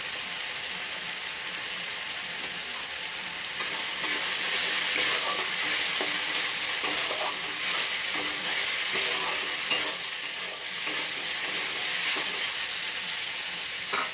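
Stir-frying in a pan after turmeric is added, a dense continuous hiss that swells louder midway, with faint scraping of a spatula and no voices.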